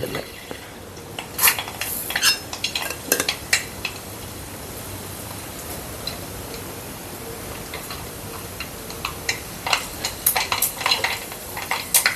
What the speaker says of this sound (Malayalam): എണ്ണ നല്ല ചൂടായിട്ടുണ്ട് നമുക്ക് കടുകിട്ട് കൊടുക്കാം ഒരു സ്പൂൺ കടുക്